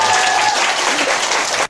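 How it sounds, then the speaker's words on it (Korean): Audience applause at a book event for an essay collection, a dense burst of clapping from a crowd that holds steady and then cuts off abruptly. "박수 한번."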